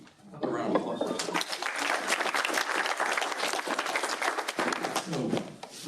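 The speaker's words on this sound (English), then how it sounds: "A round of applause." A college town hall audience breaks into steady applause, a dense, full round of clapping from a crowded room lasting several seconds before it trails off.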